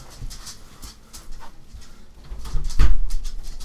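A small dog whimpers and pants indoors in a few soft, brief bursts, with a louder yelp-like sound near the end, heard alone without speech.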